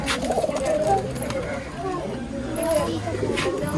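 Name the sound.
pigeons cooing in a loft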